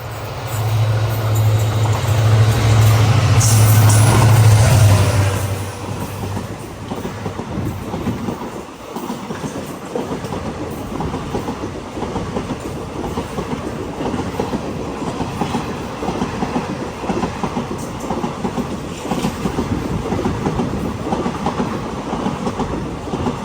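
The Kanchenjunga Express roars past at close range for about five seconds, then a steady rolling rumble and wheel clatter carry on along the line near the Bangladesh border.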